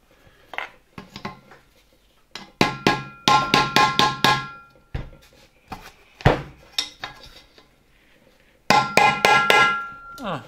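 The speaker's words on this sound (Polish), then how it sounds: "Tutaj trzeba będzie odstukać tą pokrywę turbiny" A small hammer taps on the metal turbine cover of a ZZSD type 300 vacuum cleaner motor suction unit in quick bursts of sharp clinks, separated by short pauses, close and ringing.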